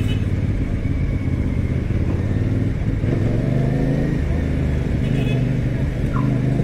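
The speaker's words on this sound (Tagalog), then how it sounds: "babaybayin natin ang matraffic na Aurora Boulevard" Heavy traffic on Aurora Boulevard, a dense, continuous rumble of car and motorcycle engines nearby, with vehicles idling and revving throughout.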